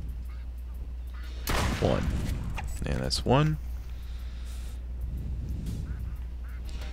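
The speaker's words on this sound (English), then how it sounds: "shoot 10 ducks before they escape" Cartoonish ducks quack and honk in the Duck Season video game, with shots firing between the calls while a man counts aloud.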